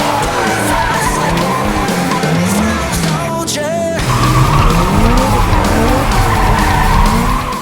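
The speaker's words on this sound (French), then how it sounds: "il va falloir envoyer pas mal de coupes pour que la voiture patine tout de suite. Elle va commencer à glisser" Car tires skid and squeal loudly as the car slides around a cone under countersteering during an extreme driving course, with sustained engine roar and a brief change in pitch midway.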